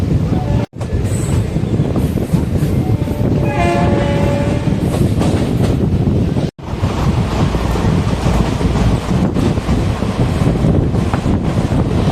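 A passenger train pulls into Palani station on the Madurai to Coimbatore route with a loud, continuous rolling rumble and wind roar, and a short horn blast sounds partway through.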